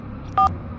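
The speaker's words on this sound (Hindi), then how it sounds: "पंडित को फोन लगाता हूँ।" A single short touch-tone beep as a number is dialed on a phone, clear and close over a quiet low background hum.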